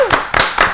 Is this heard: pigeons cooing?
no